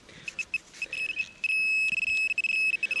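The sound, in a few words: metal detector signal tone ringing high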